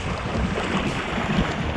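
A small sailboat on choppy water, with a steady wash of waves and wind rushing around it.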